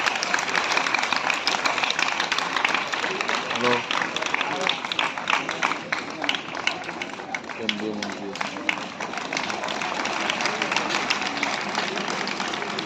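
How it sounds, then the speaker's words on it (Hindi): Crowd applause welcoming the chief guest, a Union Minister of State for Defence, at a Ramakrishna Vivekananda Mission gathering in Barrackpore: a steady, dense wash of clapping throughout, with voices talking over it. "जोरदार तालियों से स्वागत।"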